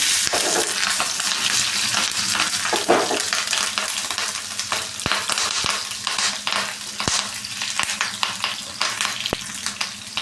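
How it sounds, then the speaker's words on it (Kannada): Dried red chilies and green chilies fry in hot oil with a continuous loud sizzle, close by, punctuated by sharp pops and occasional clinks of a stirring utensil against the pan. "ಒಣಮೆಣಸು ಮೆಣಸು ಹಾಕ್ಕೊತಾ ಇದ್ದೀನಿ ಹಾಗೆ ಒಂದು ನಾಲ್ಕು ಹಸಿಮೆಣಸು"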